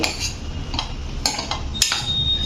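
Cluster beans and potatoes coated in spices are mixed in a pan. A metal spoon scrapes and clinks against it in a few distinct strokes over a low, steady background.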